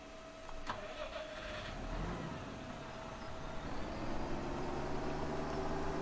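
A tractor engine in Farming Simulator 2017 cranks over and settles into a steady mid-pitched running drone that swells slightly toward the end, with no talking over it.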